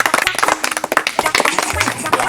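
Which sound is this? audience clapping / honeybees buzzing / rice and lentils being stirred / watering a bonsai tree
audience clapping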